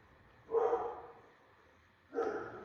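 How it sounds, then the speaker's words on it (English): A pet dog barks twice indoors, two muffled, moderately distant woofs about a second and a half apart over a quiet background, with no one talking. "You can hear my dogs. They're barking at whatever passes by right now."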